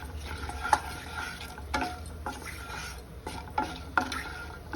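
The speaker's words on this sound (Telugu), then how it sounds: "ఇవి వేగుతున్నాయి." Sanagala patolli, a chickpea dish, fries in a pan with a soft continuous sizzle, broken by several sharp scraping stirs against the pan at irregular intervals.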